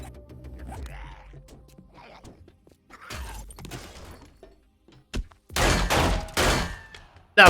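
9mm gunfire in 7 Days to Die, a handful of sharp separate shots with thuds and impacts between them, ending in a louder cluster of rapid shots.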